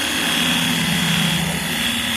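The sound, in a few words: small pressure washer running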